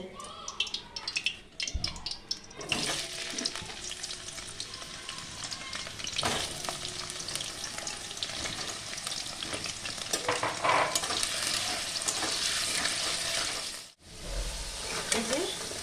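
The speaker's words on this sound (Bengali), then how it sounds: "এরপর আমি কেটে রাখা আলুটাও লাল করে ভেজে নেব" Cut potatoes frying in hot oil in a pan, a steady close sizzle running throughout with occasional stirring scrapes, the frying briefly cutting out near the end before resuming.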